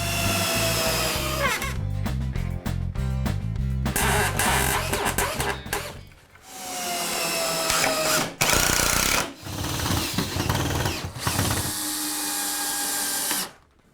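A power drill drives screws to fasten wooden furring strips to a ceiling in a series of loud, repeated bursts of whirring with short pauses between them. Each burst rises and falls, with no talking.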